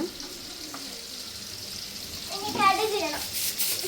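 Fish sizzling as it fries in a pan during home cooking, a steady hiss throughout with a voice speaking briefly near the end.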